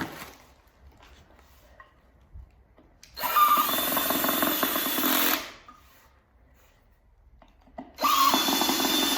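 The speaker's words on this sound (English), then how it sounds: "I'm gonna drill them in a minute" A power drill whirs loudly in two bursts while driving screws into an IKEA nightstand, a long run of about two seconds and a second starting near the end, with quiet pauses between.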